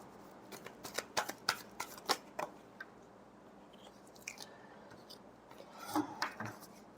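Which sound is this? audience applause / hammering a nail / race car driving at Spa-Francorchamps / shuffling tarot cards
shuffling tarot cards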